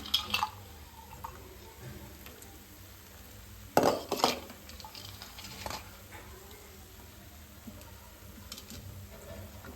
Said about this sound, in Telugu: ఇవన్నీ వేసి మంచిగా కలుపుకోవాలి